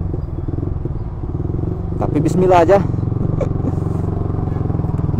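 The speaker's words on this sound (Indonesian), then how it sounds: "ini suaranya dari knalpotnya ini" A motorcycle with a standard exhaust muffler runs close up with a steady, throbbing idle-like drone throughout, while someone speaks briefly over it partway through.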